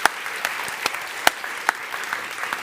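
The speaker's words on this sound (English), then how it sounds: "we get a big round of applause for that" Applause from an audience at a summit after a storytelling talk, scattered, fairly quiet claps with a few sharper distinct hits, sounding sparse and somewhat distant.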